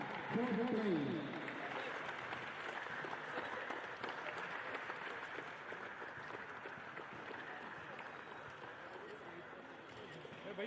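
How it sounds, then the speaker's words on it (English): An audience applauds a fourth-place team at a rural Karnataka sports championship prize ceremony, a steady roomy wash of clapping that starts stronger and settles, with a voice briefly audible at the start. "Please give them a big round of applause, ladies and gentlemen."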